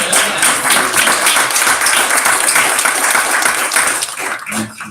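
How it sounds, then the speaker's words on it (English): Attendees at a local school council meeting break into loud, close applause, a brisk wash of hand clapping that stays strong for several seconds before thinning out near the end. "we normally don't give applause, but you guys deserve it"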